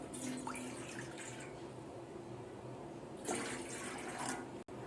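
Water, 1.5 cups, pours into a cooking pot set over a flame for kahwa, a faint splashing trickle with a brief burst of fuller pouring later on, recorded quietly and without talk.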